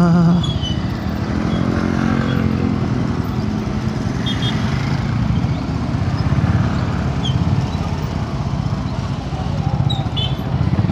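A motorcycle engine runs steadily throughout, a continuous low rumble with slight surges, close and fairly loud.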